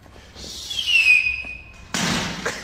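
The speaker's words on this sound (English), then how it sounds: "A simple firework turns into a 4D experience." A firework whistles as it climbs, its shrill tone falling over about a second, then a loud crackling burst near the end breaks out and lingers; no voices.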